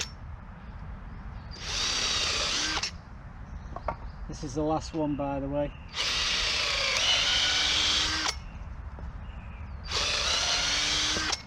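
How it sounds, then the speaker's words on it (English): Power drill boring screw holes into wooden boards for a garden raised bed, three loud sustained whirring bursts of about a second or more each, separated by pauses with someone talking in between. "I'm drilling holes into these so I can put the screw into the boards."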